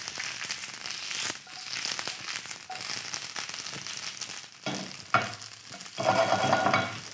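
Squash shoots tossed and sautéing in a hot pan, with a steady sizzle and stirring scrapes, louder bursts near the end, no voices.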